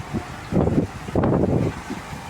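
Strong typhoon wind roaring outdoors in two loud, broad gusts that swell and fade, with a steadier rushing background between them.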